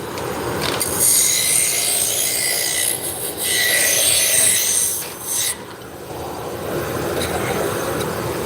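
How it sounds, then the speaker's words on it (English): Hard maple spindle being turned on a lathe, a steady loud rasping hiss of the tool cutting wood that swells and drops in passes, alone without talk. "we're turning hard maple"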